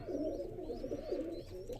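Pigeons, kept as domestic flying stock in a loft, cooing in a steady low murmur, close by and continuous for about two seconds with no talk.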